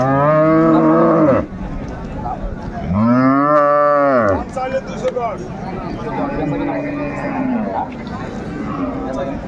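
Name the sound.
dairy cow mooing at cattle market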